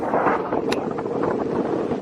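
Strong wind buffets the microphone on a beach in Tulum, a steady broadband roar that stays loud and unbroken throughout, with no talk over it.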